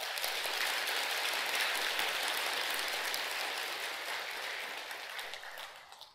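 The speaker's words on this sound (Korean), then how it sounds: "박수 한번 주십시오" Temple congregation at a Sunday Buddhist service applauds, a dense, even hiss of many hands clapping that holds steady, then gradually tapers and fades out at the close.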